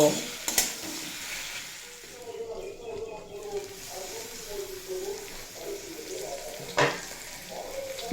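Green tomatoes fry in a pan with a soft, steady sizzle, punctuated by a few sharp stirring clatters near the start and end, with some faint talk in the background.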